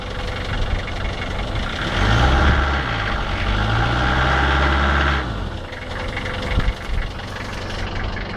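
A London Fairway taxi engine idles after a cold start on a frosty morning, a steady close-up diesel rumble with a slight knock and a brief rise in revs in the middle before settling back.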